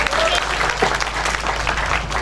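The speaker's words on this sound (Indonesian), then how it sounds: "Kita beri tepuk tangan." A church congregation at a Christmas worship service claps together, a dense sustained burst of applause at close range, with a faint voice mixed in beneath.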